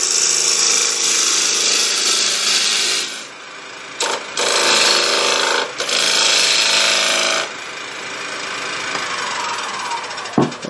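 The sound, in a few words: tool cutting deeper into a wood blank to form a rim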